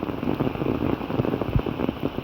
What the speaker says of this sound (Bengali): বৃষ্টি হচ্ছে তাই এরকম হচ্ছে